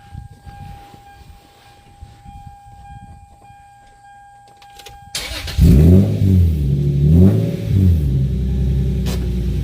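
A C6 Corvette Grand Sport engine fires up after a few seconds of quiet, settling into a loud, deep idle with repeated throttle blips rising and falling in pitch, close by.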